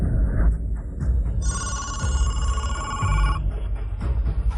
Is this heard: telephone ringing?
yes